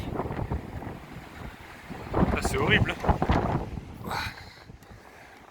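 Strong gusts buffet a camper van, rumbling wind battering the microphone in surges that swell and fade, while a voice speaks over the blustery noise.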